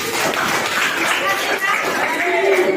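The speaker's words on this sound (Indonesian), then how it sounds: "Kita beri tepuk tangan." Dense, steady applause from a group of teacher trainees fills the whole clip at a fairly loud level, with crowd murmur mixed into the clapping.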